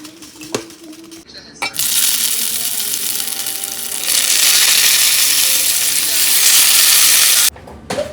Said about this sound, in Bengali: এইভাবে বেগুন ভাজা করলে না তেল অনেকটা কম লাগে